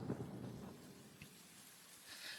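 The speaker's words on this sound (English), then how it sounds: "there was an almighty crash of thunder, and a gust of wind smashed a rain into his bedroom window" Thunder crashes low and heavy, then fades into a soft wash of rain against a bedroom window, quiet and brief with a faint gusty hiss at the end.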